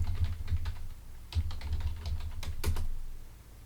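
Close, fairly quiet keystrokes on a computer keyboard as a password is typed on a Mac, a quick irregular run of taps with a couple of sharper clicks, no voices.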